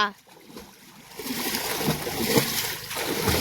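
Children kicking and swimming in a village well, with the water splashing and sloshing in irregular bursts that build after a quieter start, while adult voices coach them throughout.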